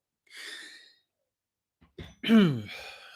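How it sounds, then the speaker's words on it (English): A few harsh throat-clearing coughs, the first short burst alone, then a brief pause and a louder rasping cough with a strained voiced edge. "I'm sorry I'm coughing so much."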